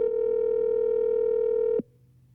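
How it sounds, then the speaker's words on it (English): A steady telephone dial tone hums loudly and evenly for nearly two seconds while a call is being placed, then cuts off abruptly, leaving only faint background hiss. "Go ahead and hit the dialer."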